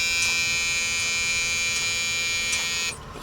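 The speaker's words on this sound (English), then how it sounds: "the key has to be on to energize my buzzer and warning light" A truck's low air pressure warning buzzer drones with a steady, loud electric buzz continuously for about three seconds, then cuts off abruptly.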